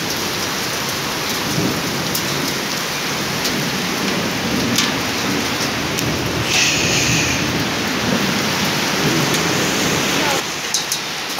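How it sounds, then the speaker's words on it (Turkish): Heavy hail and rain pour down during a thunderstorm in Mersin, a loud continuous hiss of impacts with scattered sharper clicks and a brief tonal squeal partway through. "Arkadaşlar çok fena dolu yağıyor."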